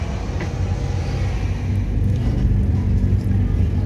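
Pangrango economy train pulling out of Karangtengah station, a heavy low rumble from the carriages rolling steadily and loudly throughout.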